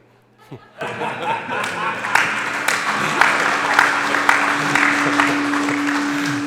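A conference audience at the FIRA USA 2024 press conference breaks into applause for the panelists, a dense, sustained wash of clapping with some chuckling that starts abruptly and holds steady.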